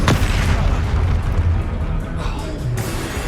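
A Confringo fire spell explosion in the video game Hogwarts Legacy, a loud booming blast with a sharp onset followed by a rumbling, sustained tail.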